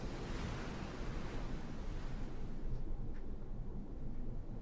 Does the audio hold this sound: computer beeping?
no